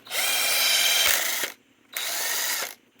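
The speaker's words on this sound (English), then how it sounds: "I've got the little impact here" A small cordless impact driver runs in two bursts, a long whirring spin of about a second and a half, a short pause, then a second shorter run, close and fairly loud.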